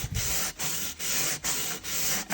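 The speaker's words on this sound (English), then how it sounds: "So we want to sand until it is smooth" A glitter-coated tumbler is sanded by hand, with steady back-and-forth rasping strokes, about five in a regular rhythm, close and loud.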